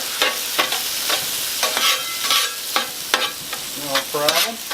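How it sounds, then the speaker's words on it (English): Eggs are stirred into chorizo on a 17-inch Blackstone griddle, with a spatula scraping in repeated sharp strokes over a steady sizzle of frying, close and clear with no talking. "Okay, so we just kind of stir in our eggs into the chorizo here."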